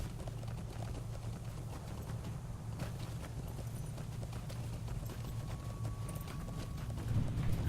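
War steed hooves clip-clop in a steady, continuous walking rhythm over a low droning background, typical of a fantasy online role-playing game, with no talk over them.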